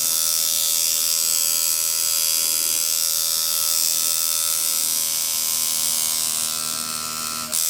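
Tattoo machine needle lining skin, a loud, continuous close-up electric buzz with a high whine that holds steady throughout, then dips briefly at the very end, with no talking.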